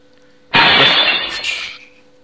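In an online board video game, glass shatters with a sudden loud crash that trails off into tinkling shards over about a second and a half.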